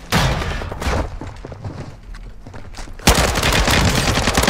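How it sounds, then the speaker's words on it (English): Gunfire in Call of Duty Warzone 2, with dense bursts of shots: a loud volley at the start, scattered quieter shots through the middle, then a sustained loud barrage near the end. "shot the gun"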